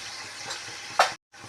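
Spices being stirred into chicken biryani masala in a pan, with a sizzling hiss and a sharp stirring scrape just before a brief cut in the sound.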